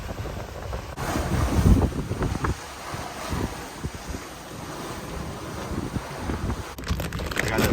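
Wind buffets the microphone while waves wash and slosh around a sailboat at sea, some coming through an open dodger window, a steady rough roar with occasional surges.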